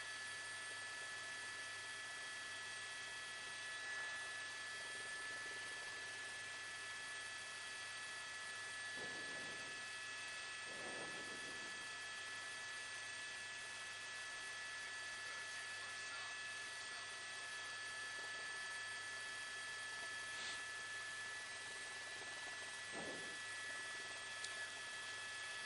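A news helicopter flying over a police pursuit gives off a steady, faint, continuous rotor and engine drone with no clear changes or breaks.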